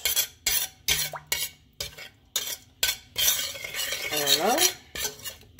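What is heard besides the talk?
stirring seasoning mixture for sea bream fish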